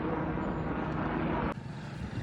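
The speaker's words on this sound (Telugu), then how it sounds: "మార్నింగ్ నుంచి ఇది 4th హెలికాప్టర్." Steady droning rotor and engine noise of a helicopter passing overhead on the Kedarnath route, fairly loud and continuous, fading slightly toward the end.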